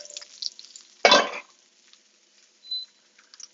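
A steak set to rest in a pan with butter added on top gives one short loud sizzle burst, then faint crackling and a small clink fade out in a quiet kitchen.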